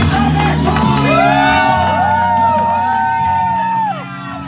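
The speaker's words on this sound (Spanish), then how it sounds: "¿Cuántos dan gritos de júbilo?" A church congregation raises joyful shouts and whoops together, a loud sustained crowd of cheering voices with rising cries layered over a steady music bed.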